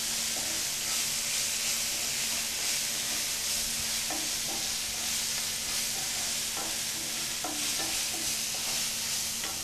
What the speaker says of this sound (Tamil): தக்காளி நல்லா வதங்கிடுச்சு நல்ல ஒரு மணம் வருது